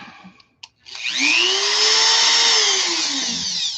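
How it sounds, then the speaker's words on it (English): A Dremel rotary tool starts after a couple of clicks, then whines at a steady high pitch, close and loud, with its speed rising and then holding. "Your Dremel's your number one."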